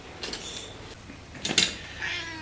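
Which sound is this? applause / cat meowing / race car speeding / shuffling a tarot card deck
cat meowing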